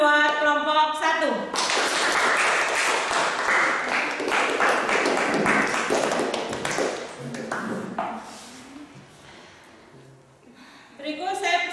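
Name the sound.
class applause for group 1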